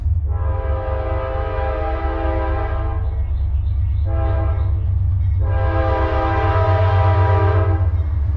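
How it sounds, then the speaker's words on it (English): A solar-powered electric train rolls steadily along the tracks, its horn sounding in long harmonic blasts, pausing, then sounding again, loud and close over a continuous low rumble. "the independent electric train is rolling down the tracks."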